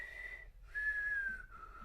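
A person whistles a slow tune nearby, holding long clear notes with brief pauses between phrases, with nothing else heard.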